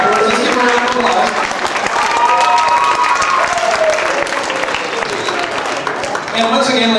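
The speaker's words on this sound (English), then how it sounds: "Let's give her a round of applause." An audience at a stake roadshow event breaks into sustained applause, with dense clapping and some cheering filling the room for several seconds.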